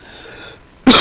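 A man gives a single loud, abrupt cough near the end after a quiet stretch of faint room tone.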